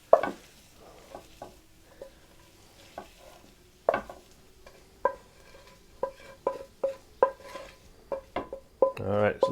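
Cheeseburger cornbread batter with ground meat and eggs is stirred in a bowl, a series of sharp spoon clinks and knocks against the dish, irregular at first then quicker, over a faint sizzle.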